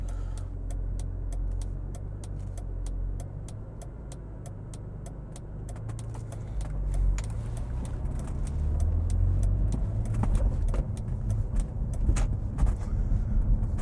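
Car with a manual clutch pulls away from a stop and cruises slowly, a low steady drivetrain rumble with soft intermittent ticking and clicks from inside the cabin, building slightly as it rolls along, with no other notable noise.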